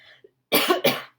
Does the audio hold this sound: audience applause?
no